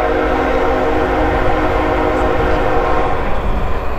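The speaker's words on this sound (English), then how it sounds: "Sorry about the train." A train rumbles past nearby, loud and steady, its continuous heavy drone filling the whole stretch without any talking.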